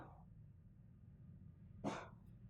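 A dog gives a single short bark, faint and distant, heard from indoors over a steady low hum of background noise.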